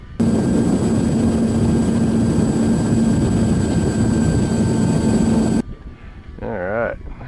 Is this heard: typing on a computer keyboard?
no